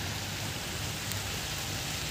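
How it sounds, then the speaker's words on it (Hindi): Steady rain falls outdoors at a college campus, a dense, even hiss of drops with no break and no voices. "मैंने बारिश का नाम लिया था और ये तो बारिश भी शुरू हो गई है।"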